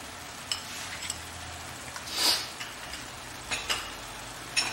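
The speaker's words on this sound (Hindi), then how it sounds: "अब इसके अंदर जो हमारी हरी मिर्च है इसे डाल देते हैं" Green chillies drop into a sizzling spice paste in a pan, a low steady frying hiss punctuated by a few quick scrapes and light taps, with one louder burst of sizzle as they land.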